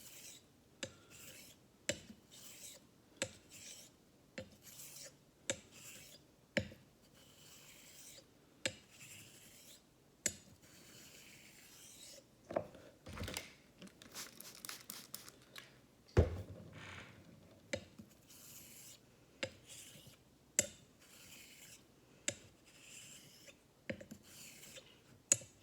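A straight razor, a German travel razor, is worked across a sharpening stone to set its bevel, giving repeated rasping strokes with sharp clicks at the stroke ends. The steady back-and-forth rhythm carries on at close range for the whole stretch, and no one speaks.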